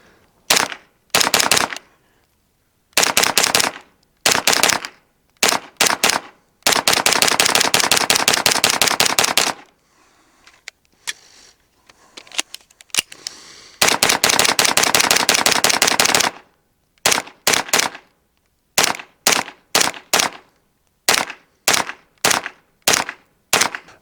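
A Springfield Kuna pistol fires MagTech steel case ammunition in loud outdoor bursts: several short strings, two long sustained rapid-fire runs, then a series of evenly spaced single shots.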